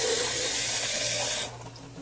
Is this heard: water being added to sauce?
yes